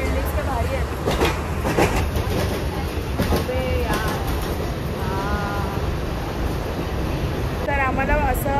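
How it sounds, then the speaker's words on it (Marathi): A commuter train at a busy Mumbai railway station produces a continuous rumble. Voices and scattered chirps rise over it in bursts. "तर मग 7ची ट्रेन आपण पकडणार आहोत."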